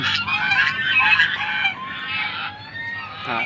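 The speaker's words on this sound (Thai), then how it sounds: "ดูเสียงห่านนะครับ เสียงห่านนะครับผม" Geese honk in repeated loud, nasal calls at close range, several overlapping bursts filling the clip in an outdoor Thai farmyard setting.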